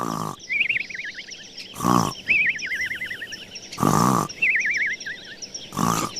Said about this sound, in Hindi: बच्चों को ढूंढ रही बकरी ने उसके खर्राटे सुने।